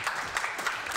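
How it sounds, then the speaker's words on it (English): An audience claps steadily at the end of an architecture talk, a dense and even burst of applause with no voices over it. "Give you a round of applause."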